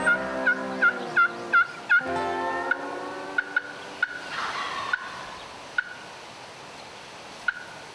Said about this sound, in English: the birds gobble less than 50 yards away